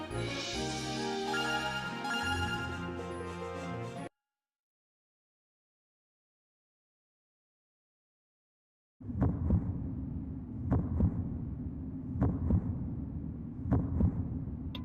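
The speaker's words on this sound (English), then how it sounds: "Heartbeat." A heartbeat sound effect from the video game Breath of Fire 5: Dragon Quarter, heard as regular low thumps over a throbbing hum. It follows game music and a few seconds of silence.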